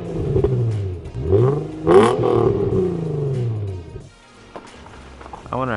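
Infiniti G35 with a VQ engine revs through its exhaust in a few rising and falling sweeps, loud and close, with a short lull before another burst.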